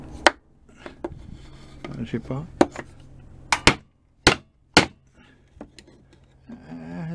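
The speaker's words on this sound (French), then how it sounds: "Le coup de marteau, on va bien voir." Hammer blows struck against a homemade provisional wood glue joint: several sharp, loud impacts spaced irregularly, some in quick pairs, with brief speech and handling noise between them.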